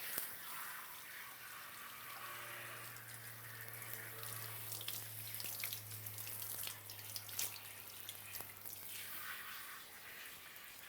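Tap water runs steadily and faintly at low pressure while a hair system is rinsed beneath it, the splashing shifting slightly, with a low hum underneath.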